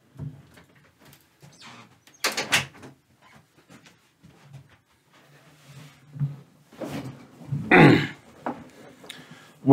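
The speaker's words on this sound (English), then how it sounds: "I'm just going to close the door." Indoors, a door is pushed shut with a couple of short knocks and a louder thud, separated by quiet pauses and faint rustling.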